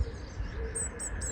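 Blue tit chicks in a garden bird box give a few brief, high chirps in quick succession near the end, faint over a steady low background rumble.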